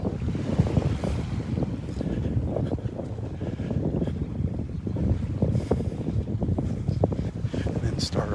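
Steady wind and gentle surf rush along the beach at Delnor-Wiggins in the evening, a continuous close roar of breeze against the microphone.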